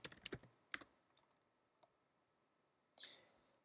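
Several quick keyboard keystrokes come in a short burst at the start, then a few scattered clicks and a last louder tap after a pause, all close and fairly quiet with no talking.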